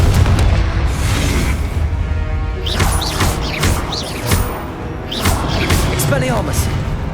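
Confringo spell blasts in Hogwarts Legacy, loud booming explosions and crashes layered over dense battle noise and game music, with characters shouting during the fight.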